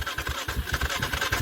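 A cold Polaris 425 ATV engine running close by with a fast, uneven pulsing chug, a rough low idle throb steady throughout.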